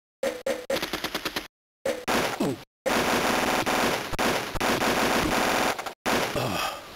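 Rapid bursts of automatic rifle fire from the Army Men video game, several loud chattering volleys broken by short silences, with one sustained stretch of continuous shooting.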